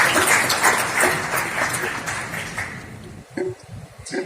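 Crowd applause at the India Mobile Congress 2023 curtain-raiser, dense clapping that fades out toward the end, giving way to a few isolated claps and murmurs.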